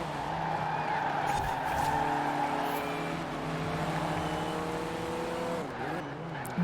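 In the racing video game Forza Horizon 4, during a classic rally event, engines whine and rise in pitch as race cars speed along, with tire squeals and rival cars audible close behind.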